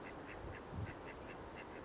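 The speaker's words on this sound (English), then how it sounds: "ducks, mallards," Mallard ducks at a nature reserve quack in a faint, evenly spaced run of about eight calls, distant and soft under a steady hiss of outdoor background noise.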